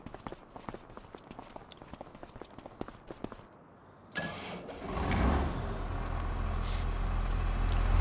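A tractor engine cranks and starts in the farming video game Farming Simulator 25, then settles into a low, steady idle. Rhythmic footsteps come before it.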